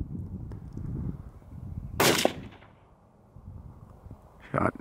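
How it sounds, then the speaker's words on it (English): A single sharp gunshot from a .22 Hornet rifle on a rockchuck hunt cracks out loud at about two seconds, followed by a short decaying echo, with low outdoor rumble and a brief second transient near the end. "Shot 22 Hornet."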